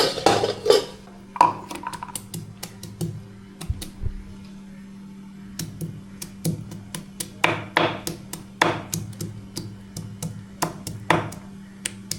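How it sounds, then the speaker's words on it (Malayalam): Garlic being crushed in a home kitchen while a pot heats on the gas stove for beef: a run of sharp, uneven knocks and clatters, close and fairly loud, over a steady low hum. "നെക്സ്റ്റ് വെളുത്തുള്ളി ഒന്ന് ചതച്ചിട്ട്"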